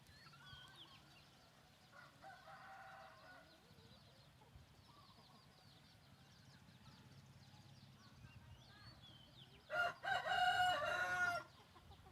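Fighting-breed chickens on a farm cluck softly against a steady outdoor background, and near the end a rooster gives a louder, longer crowing call.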